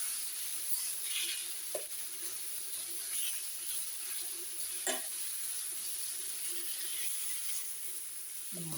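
Guinea fowl or veal searing in a pan, a steady soft sizzle and crackle held throughout, with a couple of brief clinks of a utensil, no clear talk.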